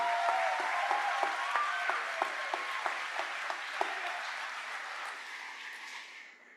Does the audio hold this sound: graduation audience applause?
yes